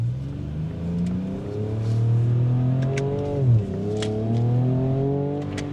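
Ford Ranger Raptor pickup accelerating hard in first gear in manual mode, engine note climbing steadily in pitch, dipping briefly at a shift around the midpoint and rising again, heard from inside the cabin.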